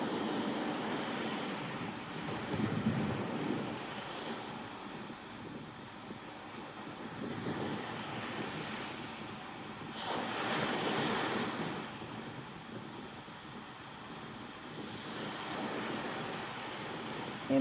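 Ocean waves wash in broad, slow surges under steady wind, rising and falling in swells every few seconds, moderately faint with no voices.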